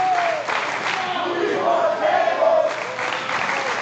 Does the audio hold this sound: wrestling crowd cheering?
yes